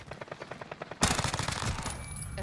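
Gunfire in Call of Duty: Warzone, a quick rhythmic burst of automatic shots that gives way to a louder, denser volley, all close and sharp.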